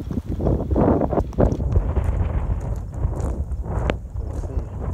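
Strong gusty wind buffets the microphone in loud, uneven bursts, a heavy roaring rush that swells and fades continuously throughout.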